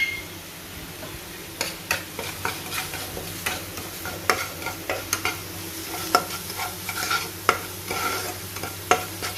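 Spices frying in oil in a pan for a katla fish curry, a steady sizzle broken by repeated sharp scrapes and clinks of a spoon stirring against the pan, close up and without talk.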